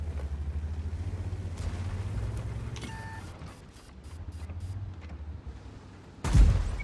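A low, steady tank-engine rumble in a video game runs throughout, then a single loud, sharp cannon blast from the VK 75.01 (K) tank bursts out near the end.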